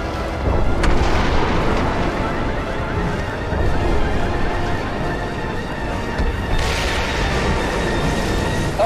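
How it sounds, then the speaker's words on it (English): A missile explosion in Crysis 2 as a loud, sustained rumbling blast with heavy low roar throughout, dense debris and crackle layered over it, no voices. "Missile away. Confirmed missile hit."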